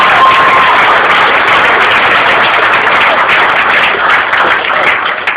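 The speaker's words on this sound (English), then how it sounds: "So let's give him a big round of applause." Dense applause from a crowd of supporters and volunteers at an indoor political rally for a senator, steady and loud with continuous clapping for the whole stretch.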